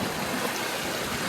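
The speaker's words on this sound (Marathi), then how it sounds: "पाणी बघा इथे किती वाहत आहे" Floodwater from heavy rain rushes through a street in Vasai, a steady broadband gushing and splashing heard close by and alone for a brief moment.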